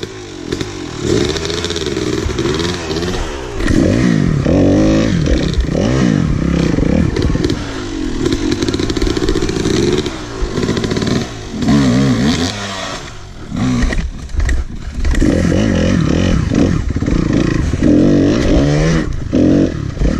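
Dirt bike engine on a trail ride, loud close revving that rises and falls continuously with clattering, scraping rough-ground noise throughout.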